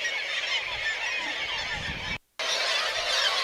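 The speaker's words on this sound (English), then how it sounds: "These birds, these black-legged kittiwakes, are nesting on the rocks" Black-legged kittiwakes calling near their nesting rocks at sea, heard from a boat: a dense, steady chorus of loud overlapping cries with no break apart from one short silent gap.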